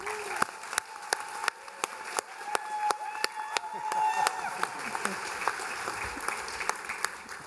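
A graduation audience applauds a speaker coming to the stage, with sharp individual claps ringing out over a crowd backdrop and faint voices.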